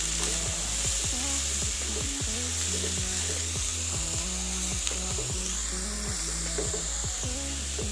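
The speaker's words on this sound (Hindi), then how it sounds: "लहसुन को हम 1 मिनट तक इसमें फ्राई करेंगे।" Garlic and chopped small onion fry in oil for homemade pizza sauce, giving a steady, close sizzle. A continuous mechanical hum and intermittent scraping sounds run underneath.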